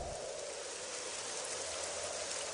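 Steady rain pours down in an even, dense hiss with no break or change, heard alone without any voice.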